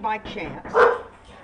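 A dog barks indoors, a few sharp close barks in a short burst, loudest near the middle, under and between a person's speech.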